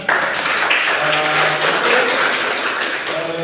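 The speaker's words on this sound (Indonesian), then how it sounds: "Kita berikan aplaus untuk kelompok 2, silakan." Classroom applause for a student discussion group, a dense steady patter of many hands clapping at once that stays loud and even throughout without pause.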